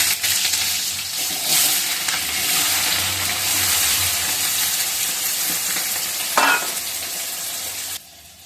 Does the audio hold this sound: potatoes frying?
yes